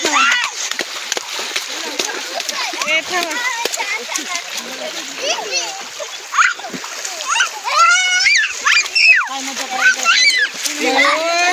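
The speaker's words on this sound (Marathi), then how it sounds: "त्याच्या अंगावर पाणी टाकायला तर." Outdoors in a natural setting near Dharur town, people throw water and splash around, with repeated loud splashes and sloshing mixed with constant excited chatter and children's voices close by.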